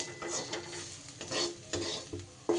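Spices and onion stirred in a little oil in a pan, a close spoon scraping in repeated strokes over a soft sizzle, with occasional sharper clinks against the metal.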